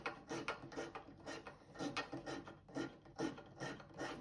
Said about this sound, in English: Then when I can't get any more, I go in with the little scraper.